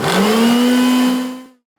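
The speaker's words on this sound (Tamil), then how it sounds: "நான் மிக்சியில் தான் அரைக்க போகிறேன்" An electric mixer grinder whirs loudly while grinding chutney, a steady motor drone that winds down and stops abruptly near the end, with no talking.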